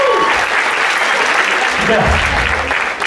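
An audience at a hypnosis show breaks into loud, sustained clapping, close and dense, while a host briefly speaks over it.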